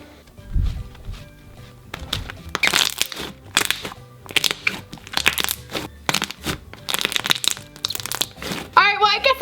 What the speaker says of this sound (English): do you hear that crunch? Like, what the heck? This is the crunchiest slime I've ever made.